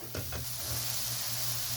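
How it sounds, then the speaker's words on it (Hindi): Ginger and garlic dropped into hot oil in a pan for an egg and spinach curry, a steady close sizzle that swells after a couple of stirring scrapes near the start. "और ये अब मैं डालने लगी अदरक लहसुन"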